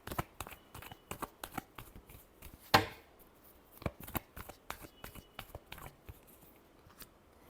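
A deck of tarot cards is shuffled by hand in quick, crisp riffles and taps, with one louder snap near the middle, close up and alone without speech.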